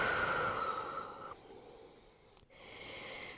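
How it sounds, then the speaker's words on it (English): Deep breathing during a shoulderstand yoga practice: a long, airy exhale that fades, then a short catch and a fresh breath drawn in, close and alone. "Big breaths again."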